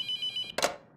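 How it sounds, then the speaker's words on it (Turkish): Telephone ringing in a horror video game set in a morgue, a steady electronic ring tone pulsing close and clear, then a sharp burst of noise cuts it off. "Bu telefonu açmalı mıyım?"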